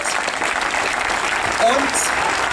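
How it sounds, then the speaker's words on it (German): A crowd at a Green Party election rally in Cologne applauds for Robert Habeck, steady dense clapping throughout with a few cheers and whistles rising from the audience. "ganz, ganz großen Applaus für Robert Habeck"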